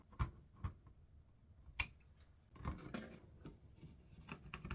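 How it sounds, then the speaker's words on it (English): Scissors snip off the loose end of a plastic zip tie fastened to a Dollar Tree heart-shaped craft frame, a few sharp, close clicks with one distinct cut, followed by soft handling rustles. "Once I get it zip tied off, I'm going to trim off the extra piece of the zip tie."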